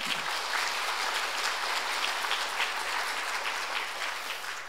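A church congregation clapping together at an Easter Sunday service, a dense, steady wash of applause that holds throughout and tapers slightly at the end.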